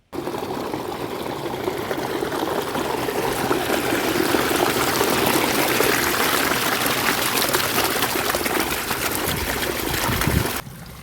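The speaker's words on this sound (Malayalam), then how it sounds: "നമുക്ക് ഇതൊന്ന് വെള്ളം ഒഴിച്ച് കലക്കിയെടുക്കാം" Steady stream of water pouring and splashing into a wet clay mix, continuous and close for about ten seconds, then stopping abruptly.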